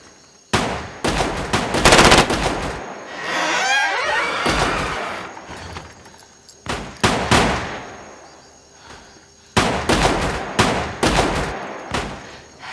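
Machine gun fire in a Chinese war film battle scene, with loud rapid bursts that start and stop across the clip, separated by a whooshing gap and short quieter pauses, heard close and without dialogue.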